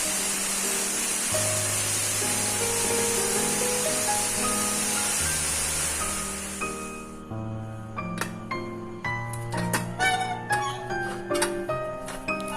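Steam hisses loudly and continuously from a pressure cooker holding chicken pulao, then stops abruptly partway through and gives way to lighter clinks and kitchen sounds.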